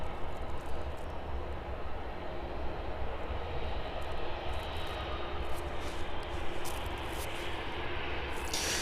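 A steady, loud aircraft engine drones on at an airport during morning operations, a continuous broadband roar holding level throughout with no voices.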